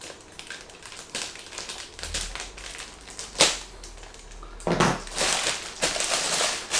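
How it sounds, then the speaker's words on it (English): A blade slices through packing tape on a cardboard box holding a Secretlab TITAN Evo 2022 Dark Knight Edition chair, giving close scratchy rips and crinkling cardboard in several short bursts. "I'll just cut open the tape pieces here"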